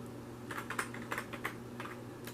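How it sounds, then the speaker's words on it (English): Short burst of typing on a computer keyboard, clustered clacking keystrokes in quick groups over a steady electrical hum, close by and with no talking. "Let's go ahead and type it again."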